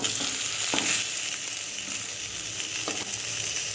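Radhuni spice seeds sizzle in hot oil in a home kitchen pan, a loud continuous crackling fry with a few sharper pops, close up and alone.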